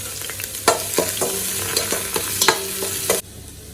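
Sliced onions with bay leaf, cinnamon, cloves and cardamom sizzle in hot oil for chicken roast, with a crackling hiss broken by repeated sharp stirring clacks of a spoon against the pan before the sizzle suddenly drops.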